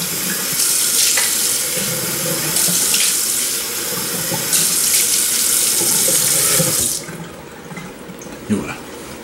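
A tap runs steadily into a sink while a safety razor, a Merkur Futur, is rinsed after shaving. The broad gush is loud and near, broken by brief splashes, then it cuts off and leaves faint dripping.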